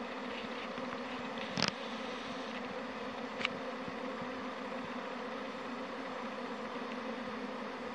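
A honeybee swarm pours out of a hive with two supers, making a dense, steady buzzing drone close by outdoors, with a couple of brief knocks.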